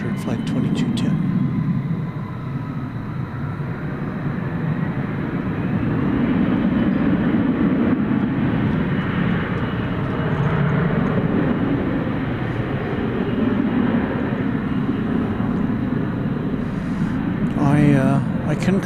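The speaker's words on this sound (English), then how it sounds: "737-800 Flight 2210." A Boeing 737-800 at DFW Airport at night sends a long, swelling jet rumble that rises and falls gently, with people talking intermittently over it.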